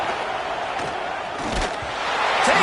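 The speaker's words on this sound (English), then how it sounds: "this crowd is making it miserable on this offense" Stadium crowd at a college-style football game on a fourth-down play, a loud, steady wall of roaring noise that holds throughout and swells slightly toward the end, with no clear speech.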